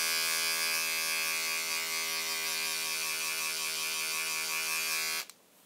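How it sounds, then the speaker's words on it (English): An electric shaver buzzes loudly with a steady, harmonic-rich hum for about five seconds, then cuts off abruptly into near silence. "she is ready to shave someone's hair off"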